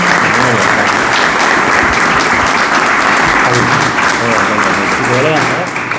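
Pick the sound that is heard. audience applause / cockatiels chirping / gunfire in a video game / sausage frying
audience applause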